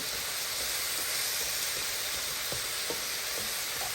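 Apples cooking in a pan, a steady bright sizzle and hiss with a few soft pops and light stirring clicks, close and without talk.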